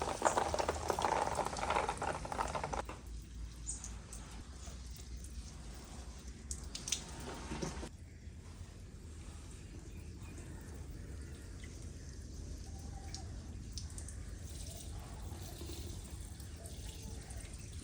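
Water poured onto plants in a Pakistani village, a loud gushing splash for the first few seconds, then softer, intermittent trickling and splashing close by.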